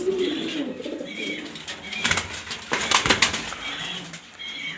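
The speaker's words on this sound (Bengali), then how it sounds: "সেরকম কোয়ালিটি দুটা নর কবুতর" Two male blue racer pigeons coo softly nearby while wings flap in quick bursts, with a steady background hum throughout.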